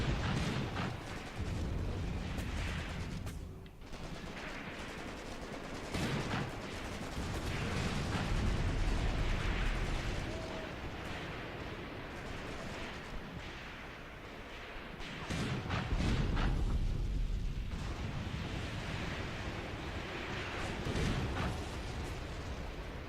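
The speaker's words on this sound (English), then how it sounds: "I'm calling in mortars too on this strong point, or what I think is a strong point." Mortar barrages and StuG assault guns firing in the wartime strategy game Graviteam Tactics, with dense, overlapping booms and rumbling blasts that keep up across the whole stretch at a steady, fairly loud level.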